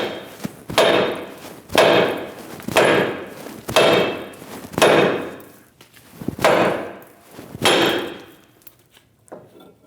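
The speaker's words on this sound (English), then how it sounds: "take a hammer and hit right on the side and it should pop down" Hammer blows on a steel steering knuckle of a 2001-2006 Chevrolet Silverado 2500 HD to free the lower ball joint, about seven loud metallic clangs spaced roughly a second apart, each ringing briefly.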